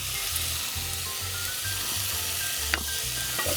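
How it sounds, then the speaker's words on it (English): Butter sizzles and fries steadily in a pan for a Creole-Caribbean black bean, bacon, yam and okra stew, a constant close hiss with a few brief clicks and stirs. "the first thing we put in our pan is some butter"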